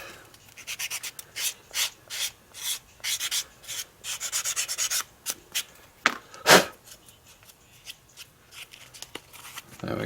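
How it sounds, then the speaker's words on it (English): Abrasive strokes rasp against the edge of a white cowhide leather case, a quick irregular series of close scraping rubs with brief pauses, one louder stroke near the middle. "resand"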